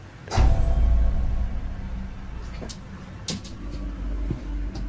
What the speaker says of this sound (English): It sounds like her closet door fell.